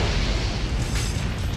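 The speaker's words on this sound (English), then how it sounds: "you can't tell me that seeing this explosion like this is not satisfying" Sustained rumbling blast from an explosion in Ninja Gaiden Black, a loud, dense broadband roar filling the whole moment without any pause or voices over it.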